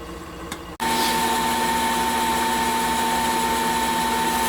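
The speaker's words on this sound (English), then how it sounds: "I'm going to turn a recess in here for this light piece to slip into. Using some little tiny tools now." Wood lathe spinning up with a sudden start into a steady motor whine and hum, with a small hand tool cutting a recess in a turned lighthouse piece, a continuous close drone without talk.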